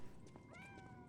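A small kitten in the game Lies of P gives one short, faint meow with a rising then falling pitch, heard alone over a quiet background.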